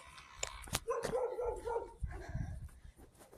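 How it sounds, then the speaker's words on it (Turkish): A dog barks several times in quick, sharp bursts at moderate distance, some yips mixed in. "Bak şurada köpek var köpek. Çok hu hu yapıyor."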